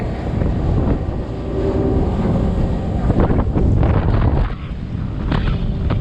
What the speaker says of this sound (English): the wind is still probably blowing 20 or better